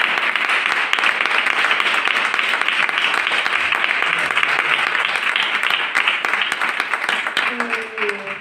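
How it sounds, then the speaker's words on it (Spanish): An audience at a Spanish-language gathering breaks into strong applause for a speaker, dense sustained clapping filling over eight seconds, loud and close, with a few voices rising near the end. "Pues yo creo que hay que darle un fuerte aplauso a Mada, que lo merece."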